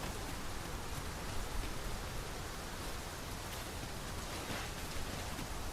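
Rain falls in the video game Dragon's Dogma 2, a steady even hiss of downpour with faint droplet patter, continuous and unbroken with no voices.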